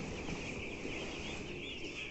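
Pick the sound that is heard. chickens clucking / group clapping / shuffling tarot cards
chickens clucking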